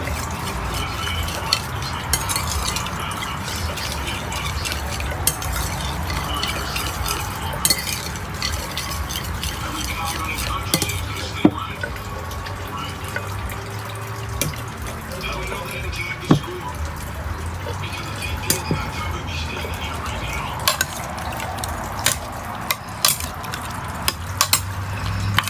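A sauce mixture with ketchup stirred in a pan, a steady close scraping swirl over a continuous sizzling, bubbling bed, with occasional sharp knocks of the spoon against the pan.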